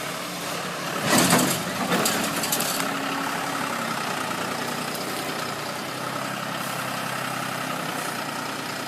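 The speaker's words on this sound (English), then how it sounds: "Here comes the rescue vehicle." A heavy rescue vehicle engine in a video game, idling and rumbling steadily at a moderate distance after a brief louder burst near the start, with faint talk in the background.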